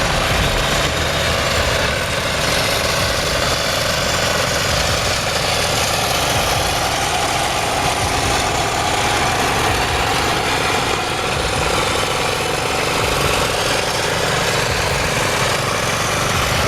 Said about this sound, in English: A large, long, and heavily loaded truck was struggling hopelessly through a tight curve.